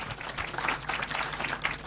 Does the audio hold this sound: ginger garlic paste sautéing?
no